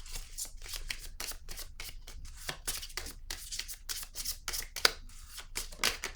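Tarot cards are shuffled and drawn by hand, with rapid papery riffles and flicks repeating steadily at close range and no talk.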